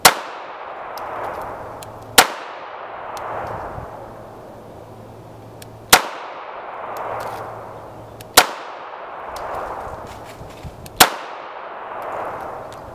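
Five sharp gunshots from a Beretta Model 85 Cheetah .380 ACP pistol, fired at an irregular pace with a ringing decay after each, no talking.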